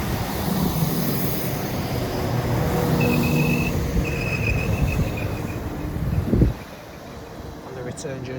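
A Class 197 diesel multiple unit, 197 115, passes nearby at a station in Manchester, giving a steady loud rumble with engine drone and faint high whine before it cuts off abruptly near the end.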